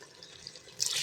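Water from a small vessel is poured into a cooking pot of vegetable kurma, a short splashing gush that starts suddenly and fills the last moments after a quiet lead-in.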